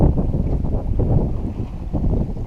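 Light wind rushing over the microphone aboard a sailboat under sail in the Bahamas, a steady, loud low buffeting rumble with no voices.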